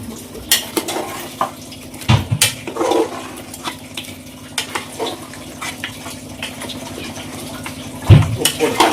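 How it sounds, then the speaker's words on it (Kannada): Mutton being mixed with masala in a metal pot in a home kitchen: irregular scraping and clanking of a spoon against the pot, with a few sharp knocks, over a steady background hum. "ನೀಟಾಗಿ ಈ ಥರ ಮಿಕ್ಸ್ ಮಾಡಿಬಿಟ್ಟು ಎಲ್ಲ ಕಡೆ ಮಟನ್ಗೂ ಮಸಾಲೆ ಹಿಡಿಯೋ ಥರ ಮಿಕ್ಸ್ ಮಾಡ್ಕೊಬೇಕು"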